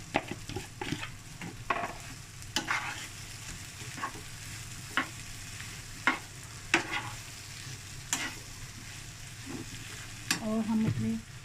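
Potatoes with garlic, turmeric, chilli and salt sizzling in a pan for ring samosa filling, with a soft continuous fry under intermittent sharp stirring scrapes and a brief metallic clink near the end, close and fairly quiet.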